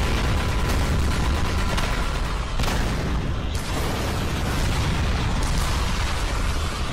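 A rapid, relentless barrage of loud explosions and booms from a Skibidi Toilet animation, continuous and overlapping throughout, with no speech.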